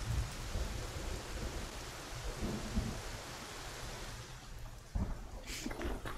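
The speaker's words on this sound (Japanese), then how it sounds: "雨降ってきた。" Steady rain sets in during a short Japanese horror game on a late-night road, a dense, even hiss with low rumbling underneath that carries on for several seconds with no talk over it.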